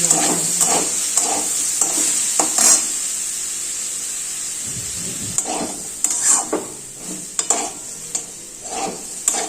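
Green jackfruit pieces fry in hot oil in a kadai, giving a continuous close sizzle broken by repeated scraping stirs of a spatula against the pan, with no talking.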